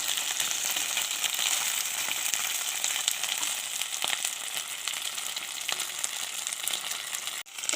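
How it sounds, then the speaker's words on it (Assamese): Food frying in a large pan, a loud continuous close sizzle with faint scraping of stirring, going steadily without any voices until a short break near the end. "অকণমান এনেদৰে ভাজি ল'ম।"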